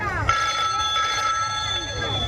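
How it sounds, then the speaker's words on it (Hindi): Telephone ringing in a household scene, a bright electronic trill sounding close and loud, starting after a brief moment and continuing steadily to the end. "सूरज बेटा, देखना तो किसका फोन है?"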